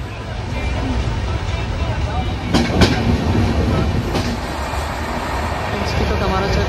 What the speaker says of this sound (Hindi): अगर इस ट्रेन से जाएंगे तो अपनी ट्रेन चल चुकी है।